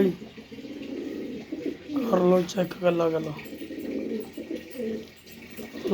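Pigeons for sale at a pigeon trade coo in soft, repeated low calls, heard near and under men's conversation.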